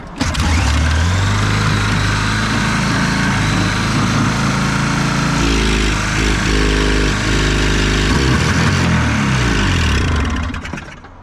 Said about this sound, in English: This is honestly so bad for an engine, having it roll over that many times without firing.